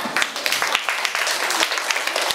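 Schoolchildren in a Year 5 Malay-language class give a short burst of applause, a quick patter of many small hands clapping at close range, with a few sharper claps standing out.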